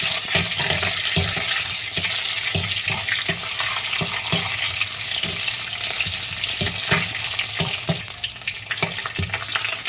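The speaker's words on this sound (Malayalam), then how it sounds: "അതിലേക്ക് ഇഞ്ചി വെളുത്തുള്ളി ചതച്ച് വെച്ചിരിക്കുന്ന കൂടി ചേർക്കാം ഒന്ന് ഇളക്കി കൊടുക്കാം" Crushed ginger and garlic fry loudly in a pan for a prawn curry, a dense close sizzle with regular spatula strokes knocking and scraping throughout.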